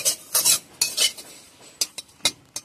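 Neem flowers are stirred in an empty, dry wok with no oil, producing a series of close, crisp scrapes and clinks of a utensil against the pan in uneven bursts.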